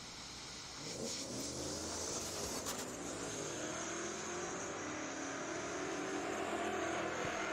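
A 1992 Ford Mustang drag car, a True Street entry at an NMRA drag racing event, runs down the racetrack, its engine a sustained, distant roar that rises gradually in pitch.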